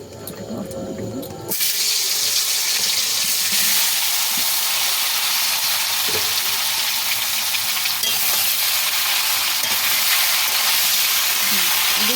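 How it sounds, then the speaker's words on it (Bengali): Raw mango pieces frying in hot oil for a pickle, a loud, dense sizzle that bursts in suddenly and holds steady, with occasional stirring knocks and faint background sound. "তো আমটা এবার তেলের মধ্যে দিয়ে এবার নাড়াচাড়া করছি"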